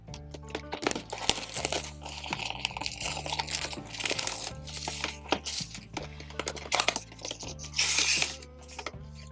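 Packaging of an Army Painter airbrush paint set being opened: crinkling plastic, crunches and small clinks of bottles, close and uneven over a faint steady musical backdrop.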